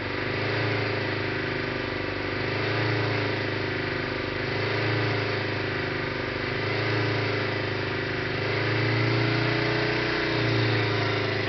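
A turbo diesel engine in a Mazda, fitted with a Benz diesel and running on propane, holds a steady speed of about two thousand rpm, a continuous even drone with a low pulsing rumble and no talk over it.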